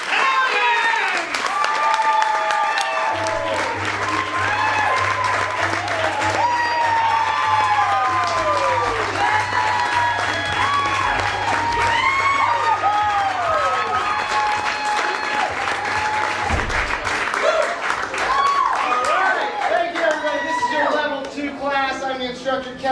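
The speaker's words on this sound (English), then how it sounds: "So let's get our hands clapping. And our hands clapping for Kellen! Hellions!" Audience clapping and cheering for a class and its instructor at a level 2 event, a sustained dense applause with whoops, and a loud voice talking over it.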